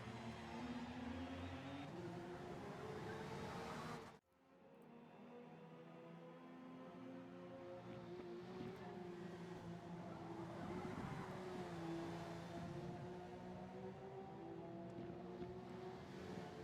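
Race cars speeding around the Yas Marina track in a racing video game make a continuous droning engine roar that cuts off sharply once early on, then swells back and holds steady with no voices.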